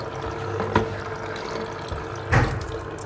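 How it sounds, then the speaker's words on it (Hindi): Water circulates through an Enagic Kangen water ionizer during a deep cleaning cycle, a steady running-water wash with a couple of brief splashy surges, no voices. "मशीन के अंदर पानी जा रहा है और वापस वहीं रोटेट होके वहीं आ रहा है।"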